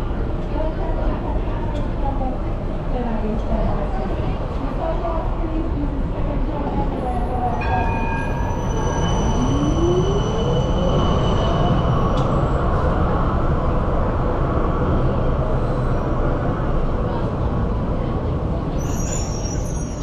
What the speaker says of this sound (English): So here is B2 class 2098 heading north on Route 1 to East Coburg